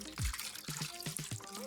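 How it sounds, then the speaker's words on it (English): Oil and water are poured through funnels into bottles, a short liquid splash early on followed by quieter trickling and gurgling over a faint tonal background. "We fill one with oil and one with water."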